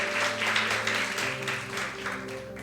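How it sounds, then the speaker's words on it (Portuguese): Church congregation applauding during a sermon, a soft, steady patter of clapping spread across the room beneath sustained music or organ tones. "Você pode aplaudir o Senhor"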